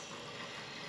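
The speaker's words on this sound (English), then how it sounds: "Bandsaw blade sharpener running today." A homemade sawmill bandsaw blade sharpener, built from scrap iron with a gate operator motor, runs with a steady, faint mechanical hum and grinding hiss, unbroken and without talk.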